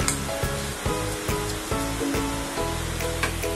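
Oil sizzles and bubbles steadily as veg Manchurian vegetable balls deep-fry in a wok, a continuous crackling hiss broken by several soft knocks at an irregular pace.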